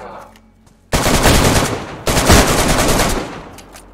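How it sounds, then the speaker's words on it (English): Two loud bursts of automatic gunfire in the video game DayZ, each a rapid rattling volley that rings on and trails off, close and dominant over the scene. "I'll shoot him. He's almost dead."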